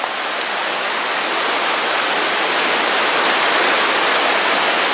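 Rushing water roars steadily and loudly, a dense unbroken hiss of a fast-flowing river close by, beside a village street near Lauterbrunnen, Switzerland.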